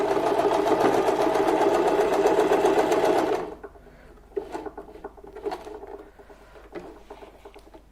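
A sewing machine stitches the seam of a small bed quilt for a Laddu Gopal idol, running loud and steady for about three seconds before stopping, followed by faint scattered handling clicks.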